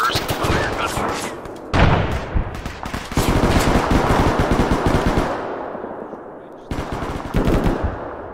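Automatic gunfire rattles in an Arma 3 military battle against insurgents, loud sustained bursts of rapid shots with brief pauses between volleys, close and dense, with no voices over it.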